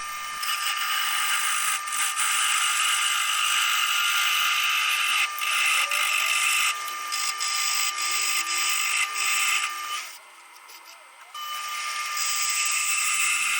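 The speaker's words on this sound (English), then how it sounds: "a good excuse to get out the spindle gouge and practice with that some" A spindle gouge cuts into a spinning piece of drying wet offcut wood on a lathe, a steady loud high scraping hiss with a constant motor whine, dipping briefly near the end before resuming.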